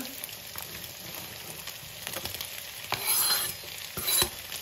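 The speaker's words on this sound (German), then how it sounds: "Die Mohrrüben kommen nun auch in unsere Pfanne." Carrots sizzle and crackle steadily in a hot pan with beef and rice, with a couple of louder scraping stirs and clinks near the end.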